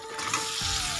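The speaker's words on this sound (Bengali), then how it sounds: "তো চিকেনটাকেও এবার একটু ভেজে নেবো, তারপরে দেবো মশলা।" Chicken pieces sizzle loudly in a pan with onion, a brief, dense, steady frying hiss heard alone.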